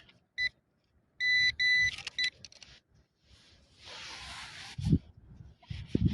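A metal detector gives a few short, clear electronic beeps outdoors while searching for buried metal, followed by rustling and scraping of digging in soil.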